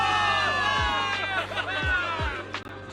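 A large crowd cheers a victory in Zenless Zone Zero, loud sustained whooping and shouting rising and falling, overlaid by a strong voice speaking over the noise.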